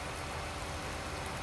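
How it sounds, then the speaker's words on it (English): Steady rain falls on a farm field during corn planting, a dense, even hiss of drops filling the whole clip with no voices. "And it's raining."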